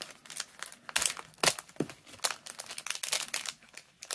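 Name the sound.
opening bead packages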